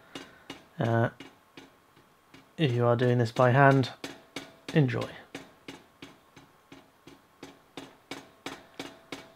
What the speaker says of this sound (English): Now I'm doing this under the power hammer because it's quite tough stock.